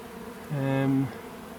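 A single bee near a hive buzzes loudly close by for about half a second, a steady droning hum over a faint background murmur.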